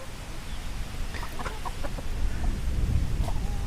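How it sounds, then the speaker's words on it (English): Chicks about five days old and week-old goslings cheep and peep softly in scattered high chirps over a steady low rumbling background, with no talking. "These chicks are 5 days old."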